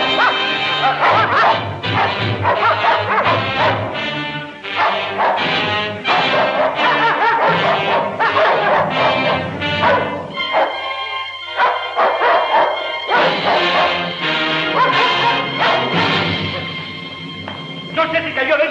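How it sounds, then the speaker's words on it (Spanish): Several dogs bark and yip loudly and repeatedly in a dense, continuous clamor in an old Mexican comedy film, layered with crashing noises and under urgent shouting voices throughout. "Tú, suelta a los perros."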